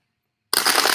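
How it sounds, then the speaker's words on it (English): Small tarot cards being shuffled by hand, starting abruptly after half a second of silence and then running as a close, steady riffling rustle to the end. "If you want to fast forward through the shuffling, feel free to do that."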